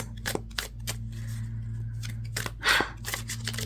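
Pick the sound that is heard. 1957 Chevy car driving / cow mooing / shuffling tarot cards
shuffling tarot cards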